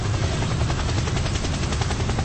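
A video game helicopter's rotor thumps steadily with a dense, continuous engine drone, loud and close throughout, in Roblox Plane Crazy.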